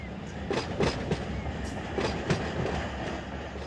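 A freight train hauling auto racks in the Run 8 train simulator game rolls past with rhythmic clickety-clack wheel beats over the rails and a steady low rumble, fairly loud and continuous throughout.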